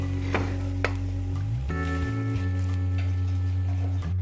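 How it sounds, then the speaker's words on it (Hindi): Chicken patty filling with freshly added green onions is stirred in a hot pan, a spoon scraping and clicking against the metal over a constant sizzle and a steady hum close by. "अब मैं इसमें हरी प्याज ऐड कर रही हूँ और इसको मिक्स करके"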